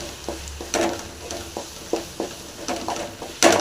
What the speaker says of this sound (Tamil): வீட்டு மிளகாய் தூள் இதையும் சேர்த்து நல்லா கொஞ்சம் ஃப்ரை பண்ணிக்கலாம்